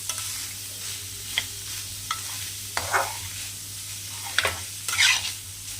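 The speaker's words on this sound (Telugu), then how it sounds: "చూడండి ఫ్రెండ్స్ ఎలా వేగుతుంది ఇంకా బాగా ఎగాలి ఫ్రెండ్స్" Cauliflower fry stirred in a hot pan: a steady sizzle with scattered scraping clicks of the spoon, loud and close, no talking.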